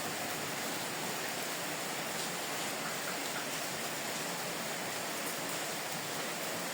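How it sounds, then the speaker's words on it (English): Steady broadband hiss of rain falling on a rainy day at a porch being tiled, continuous and even throughout with no voices. "Rainy day."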